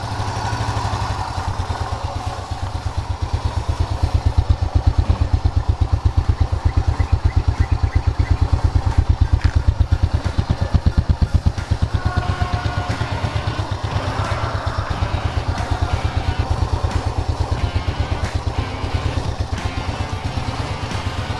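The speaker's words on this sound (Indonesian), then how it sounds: "kalau untuk mesinnya kayak gini nih" A Honda Astrea Grand motorcycle engine idles close by, a loud, even, rapid putter with a steady low thump that runs without pause for over twenty seconds.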